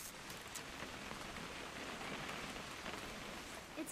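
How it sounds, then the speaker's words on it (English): Steady rain in the video game What Remains of Edith Finch, a dense even hiss of drops pattering on surfaces, close and continuous with no pauses and no voices. "It's gonna rain the whole weekend"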